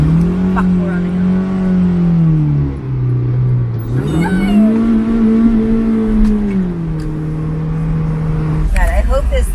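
A car engine labours under load while driving along Wilshire, its loud, close drone holding steady and dipping briefly before climbing again, ending in a short rough burst.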